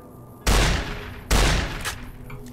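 Two loud, booming shotgun blasts from Fallout: New Vegas ring out about a second apart, each with a sharp attack and a decaying tail, with no talking.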